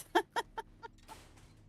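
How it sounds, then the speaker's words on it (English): A chicken in 7 Days to Die gives four quick, clear clucks that fade out, followed by faint rustling and light background noise. "Hunted a chicken by bicycle."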